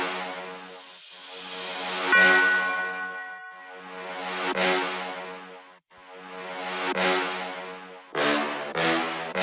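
A sampled brass phrase from a Semantic sample pack, with swelling sustained chords that rise and fade in long waves, bright and bell-like, then a few shorter stabs near the end; loud and unaccompanied.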